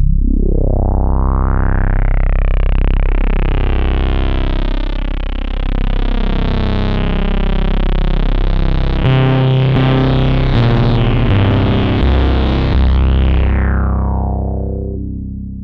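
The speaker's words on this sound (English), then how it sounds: "push the drive all the way up and play some really deep notes for a really satisfying effect" Motor Synth with its filter drive pushed all the way up, playing deep, heavily distorted bass notes that fill the low end with a thick, gritty, sustained buzz and shifting tone, loud and continuous throughout.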